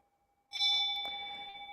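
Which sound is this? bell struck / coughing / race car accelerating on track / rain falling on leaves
bell struck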